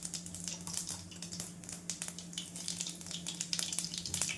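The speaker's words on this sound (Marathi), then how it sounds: "छान आपलं तेल गरम झालेलं आहे आणि मोहरी त्याच्यानंतर जिरं हे पण टाकून घेऊ छान." Mustard seeds and cumin sizzling in hot oil, a close, busy crackle with scattered sharp pops over a steady low hiss, no voices.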